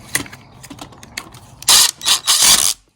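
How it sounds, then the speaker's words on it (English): An impact wrench tightening a carburetor on a 125cc pit bike gives three loud rattling bursts close by, following a stretch of quieter clicking and handling of parts. "Now I'm gonna use my impact again and tighten it up."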